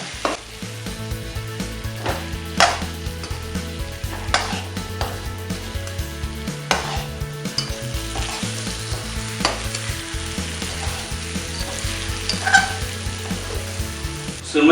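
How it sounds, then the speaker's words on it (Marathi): Dry salted surmai fish tossed and fried in a masala in a pan, with continuous sizzling, repeated stirring scrapes and a few sharp utensil knocks against the pan. "ती आपण यात टाकूया सुरुमय ही आता या मसाल्यामध्ये चांगले एकजीव करून घेऊया"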